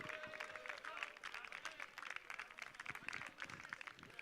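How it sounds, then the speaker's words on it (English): Faint, steady applause from an audience at a blind football match, France against Argentina, claps patter continuously for several seconds with no voices on top. "On peut également les applaudir une dernière fois, s'il vous plaît."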